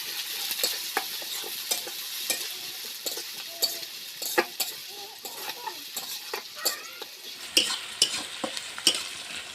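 Onions sizzle and fry in a pan during a Tamil-style chicken curry, with frequent scraping stirs and clinks of a spatula against the metal, close and steady throughout.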